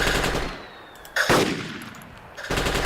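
A door gunner on a Huey helicopter in Arma 2 fires a machine gun, loud sustained bursts that break off briefly and then resume.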